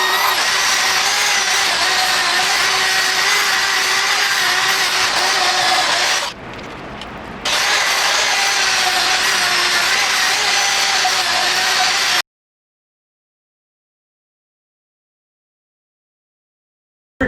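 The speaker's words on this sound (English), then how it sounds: "Now I'll be able to get up under there with the buffing wheel." A buffing wheel on a power tool polishes the exhaust of a 2020 Yamaha MT-09 motorcycle, a loud, steady high whine with a brief drop in the middle, then a sudden stop into silence.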